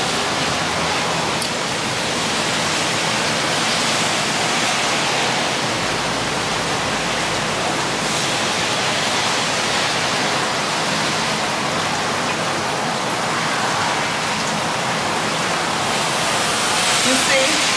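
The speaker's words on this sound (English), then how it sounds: "it's raining so hard." Heavy rain pours steadily outdoors as a dense, continuous hiss that fills the whole stretch at an even, loud level with no break.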